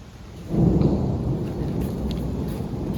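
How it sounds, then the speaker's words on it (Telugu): Heavy rain pours down with rolling thunder at a night campsite in the hills, a deep rumble swelling loud near the start and then sustained over the steady downpour. "అరే మళ్ళీ వర్షం స్టార్ట్ అయిపోయిందిరా."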